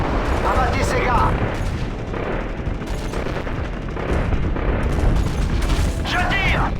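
Dense gunfire and explosions from a Call of Duty MW3 battle, loud and continuous, with booms and bursts layered under radio-style voices speaking French.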